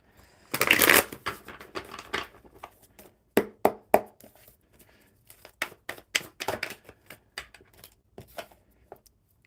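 Paper tarot cards are shuffled by hand at close range, a dense riffle burst followed by quicker intermittent flicks and taps of cards, loud and crisp with no talking.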